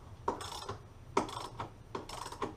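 A ratchet wrench clicks in three short bursts while loosening the shock absorber bolts on a Range Rover during an air spring replacement.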